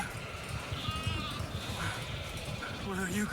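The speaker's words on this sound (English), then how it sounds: "Sheep." Sheep bleat a few times, faint wavering cries at a distance, under a busy noisy background with a voice talking.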